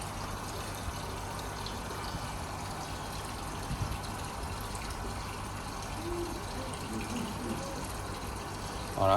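Water rushing and filling a K1 media filter during a backwash, a steady broadband gush with pump hum underneath, continuous and fairly close for the whole stretch without talk.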